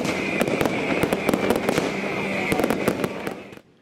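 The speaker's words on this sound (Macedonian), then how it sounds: "Жителите на Белград со голем огномет го прославија доаѓањето на новата година според јулијанскиот календар" Fireworks for the Orthodox (Julian calendar) New Year in Belgrade fill the air with dense crackling and sharp popping bursts over a rumbling background, then stop abruptly at the end.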